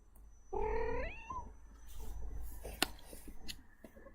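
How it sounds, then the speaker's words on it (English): A house cat lets out a loud, drawn-out caterwaul lasting about a second, followed by quieter rustling and background sounds with a sharp click near the end. "You can say hi to my cat, Lenny."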